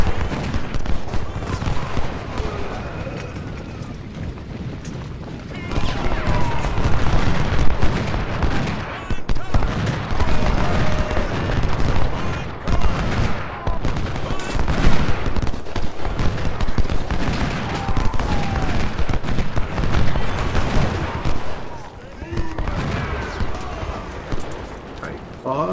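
Cannon and musket fire in the Civil War strategy game Ultimate General: Civil War, a dense, continuous rumble of battle with booms and crackling volleys, heard under a man's speech throughout.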